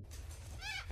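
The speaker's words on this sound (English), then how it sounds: "Aww, his bird." A pigeon coos softly in a movie scene, a faint, low, brief call over quiet background sound.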